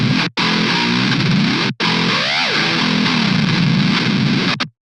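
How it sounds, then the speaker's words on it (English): Heavily distorted metal guitar with the distortion mix swept up and down, giving loud, buzzing chugs with brief hard cutoffs and a rising and falling swept tone in the middle. "I'm going to sweep this up and down with automation so we can kind of bring in more distortion in and out as we want it"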